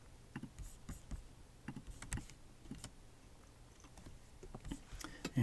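Keystrokes tapped on a computer keyboard while text is entered for an After Effects text layer, irregular bursts of light clicks at moderate distance, with no voices.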